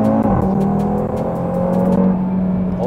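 Audi TT RS (2018) with its 2.5-litre turbocharged five-cylinder engine, 400 hp and seven-speed S tronic gearbox, accelerating hard; a loud, steady engine drone with rising pitch fills the whole stretch.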